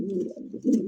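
A pair of red Lahori pigeons coo close by, a soft low throaty burbling in two short phrases, alone without voices.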